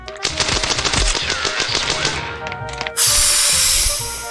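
Rapid automatic gunfire in the mobile shooter Standoff 2, loud dense bursts of shots crackling for about three seconds, then a sudden bright hissing burst takes over.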